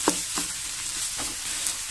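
Nasi goreng being stir-fried with boiled selayang fish in a pan, a steady close sizzle with a few sharp scraping stirs of the spatula, no talking.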